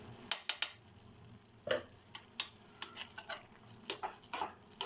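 Ridge gourd pieces cook in a pan with cumin and chillies, a faint sizzle broken by a string of sharp spatula scrapes and taps against the metal, quiet and close.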